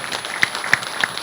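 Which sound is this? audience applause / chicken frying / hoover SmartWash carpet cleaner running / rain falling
audience applause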